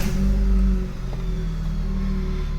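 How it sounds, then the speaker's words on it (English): A car engine fitted with NGK ruthenium spark plugs turns over and catches, then settles into a loud, steady low idle that carries on alone. "So let's start my car"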